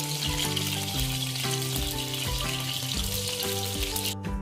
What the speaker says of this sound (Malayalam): കശുവണ്ടി നമുക്ക് ആഡ് ചെയ്ത് കൊടുക്കാം ഒരു ഗോൾഡൻ കളറ് ആവുന്നത് വരെ നമുക്ക് വെയിറ്റ് ചെയ്യാം